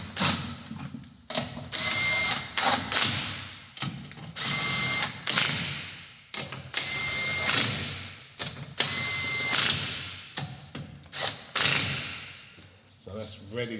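An impact gun runs the wheel nuts on a Hyundai during a brake pad change, several loud close bursts of rattling hammering with short gaps between them.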